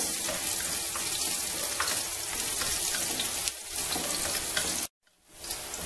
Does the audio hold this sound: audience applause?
no